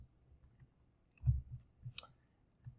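A few soft, close computer mouse clicks, one sharper click standing out among faint quieter taps in an otherwise silent room.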